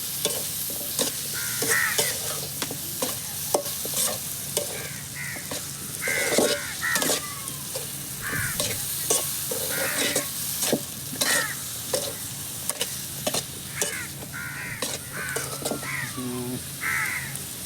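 Palm fruit pieces coated in masala are stirred in a frying pan, with repeated scraping strokes over a steady sizzle, while crows caw intermittently in the background.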